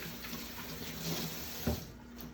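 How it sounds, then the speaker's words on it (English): Water runs from a kitchen sink tap while hands are washed clean of breadcrumbs, a soft steady splashing with one brief louder knock near the end. "then we're going to wash up our hands again, get the breadcrumbs off"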